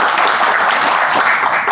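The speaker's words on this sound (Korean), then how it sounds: "큰 박수 부탁드립니다" At a hazardous materials industry policy seminar, the audience gives steady, even applause to welcome the association president, a full room of clapping held at a constant level for nearly two seconds.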